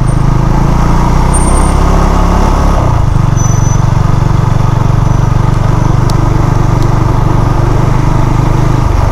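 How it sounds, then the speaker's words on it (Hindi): A Benelli TNT 25 motorcycle rides through evening traffic in Islamabad, Pakistan, its loud, steady engine drone continuous and close, with a slight shift in tone partway through and no talk. "ये अभी बिनेली की फर्स्ट राइड आपको मैं करवा रहा हूँ।"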